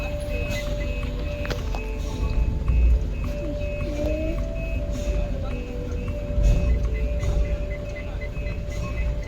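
An Eicher truck's reversing alarm sounds repeated electronic beeps at a steady pace beneath a low engine rumble, while people talk nearby.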